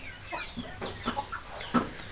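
Chickens in a fenced backyard coop clucking in short, scattered calls, a few birds near and fairly clear against a low background hum.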